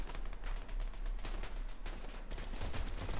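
Rapid SMG gunfire in a Fortnite match, sustained bursts of shots blending with other in-game noise and fire throughout.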